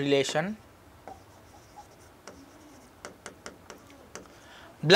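A pen writing on paper during a study lesson, with soft scratchy strokes and light taps spread across a quiet stretch, framed by brief bursts of speech at the start and end.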